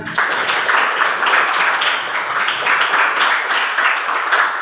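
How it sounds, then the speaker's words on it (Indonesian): A class of students gives their classmates a round of applause, steady brisk clapping close by that carries on evenly for nearly five seconds without talk. "terus tepuk tangan untuk teman kalian"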